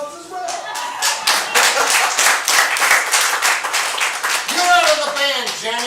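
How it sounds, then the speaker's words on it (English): An audience gives a round of applause, a dense patter of many hands clapping for several seconds, with a voice briefly speaking as the clapping tails off. "we should give Roman a round of applause as well"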